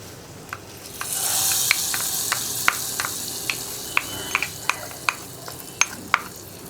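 Chili powder tempering poured into pumpkin curry cooked in a pressure cooker sets off a steady, close sizzle, with sharp spoon clicks and taps repeating over it; no one speaks.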